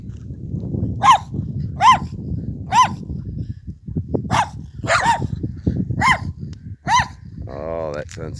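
Dogs bark repeatedly at fairly regular intervals, about seven sharp barks, over a steady low rumble of background noise.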